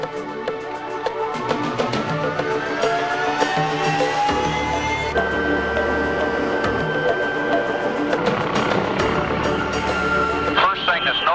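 A NOTAR helicopter in flight: a steady engine and rotor drone with rising and falling whine tones, a close and constant sound that runs throughout under a narrator's voice.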